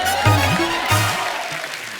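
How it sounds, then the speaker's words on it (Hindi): A comedy-show studio audience gives a burst of loud, continuous applause for a tabla player, mixed with deep tabla strokes and sustained musical tones. "तबला के लिए जोरदार तालियां हो जाए"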